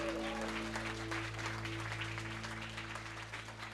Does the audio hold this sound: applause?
yes